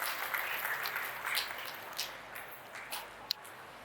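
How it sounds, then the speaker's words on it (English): Students clap after a performance at a sports complex inaugural ceremony, a soft, scattered patter of applause that thins out toward the end, heard from a distance without talk. "Students, a big round of applause for the soulful and spirited performance."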